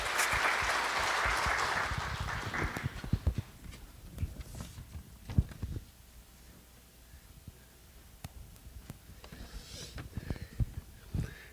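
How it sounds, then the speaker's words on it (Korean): A church congregation at a Friday prayer meeting claps to welcome an elder, a burst of applause for the first few seconds that thins into scattered claps and knocks, with faint talk later. "우리 박수로 한번 환영해 주시기 바랍니다."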